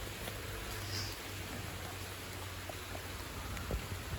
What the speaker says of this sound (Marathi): पाऊस लागत आहे एवढं आम्ही इकडे जरा झाडाखाली थांबत आहे